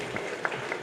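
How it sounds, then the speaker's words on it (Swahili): Audience at a secondary school academic awards ceremony in Iringa breaking into applause, a brief burst of scattered clapping with a few sharper hand claps standing out, moderately distant. "Na mnipigie makofi, nimewaibia siri."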